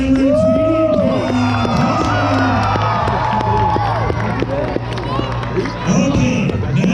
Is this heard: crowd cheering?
yes